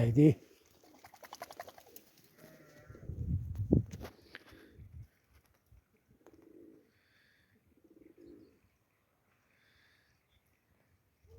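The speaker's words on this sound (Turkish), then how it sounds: "Güvercinlerimiz de ileride yayılıyor." Pet pigeons coo in soft, low phrases that come and go, mixed with brief handling noise and a few short voices near the start.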